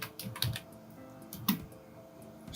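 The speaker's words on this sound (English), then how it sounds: "So let's type in our text." Quiet computer keyboard typing: a handful of soft, scattered keystrokes with short pauses between them, close and alone with no talking.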